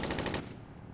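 Burst of rapid automatic gunfire in ARMA 3, a quick run of evenly spaced loud shots cutting off after about half a second into a lingering echoing tail.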